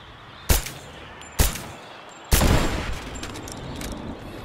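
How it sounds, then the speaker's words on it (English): Gunshots in the Rise of the Tomb Raider video game, three sharp loud reports spaced about a second apart, the last one followed by a lingering echoing tail. "Let me see if I can shoot it."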